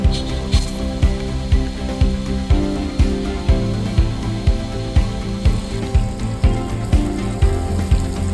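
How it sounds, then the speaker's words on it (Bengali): Chopped onion and two dried chillies frying in butter and oil, a loud, close, continuous crackling sizzle with a regular beat of spoon strikes against the pan throughout, and no voices. "ওই তেলের মধ্যে আমি বাটার দিয়ে দিলাম। অর্ধেক পেঁয়াজ কুচনো আছে, দিয়ে দিচ্ছি।"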